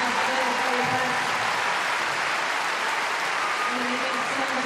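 Crowd at a gymnastics world championships arena in Liverpool applauding a vault finalist, a broad, steady wash of clapping and cheering that fills the whole stretch, with a commentator's voice over it.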